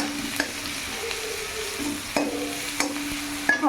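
A spatula stirs salted chopped onion frying in oil with dried chillies in a kadai, giving a steady close sizzle broken by a few sharp scrapes and knocks on the pan.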